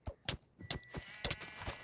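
Sheep in a survival video game bleating in several short, quick calls, fairly faint against quiet game sounds.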